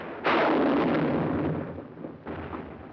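Artillery fire in a 1945 Second World War documentary about the battle of San Pietro: one loud, close boom with a long rumbling decay, then a second weaker blast about two seconds later, with no speech.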